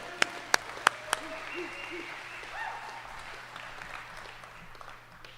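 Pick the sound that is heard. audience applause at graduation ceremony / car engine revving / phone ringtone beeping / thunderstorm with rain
audience applause at graduation ceremony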